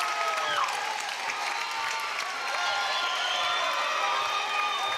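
A home crowd at a high school basketball game between the Chesapeake Panthers and Fairland Dragons on Pearson Court keeps up a steady roar of cheering, with sneaker squeaks and faint voices running through it.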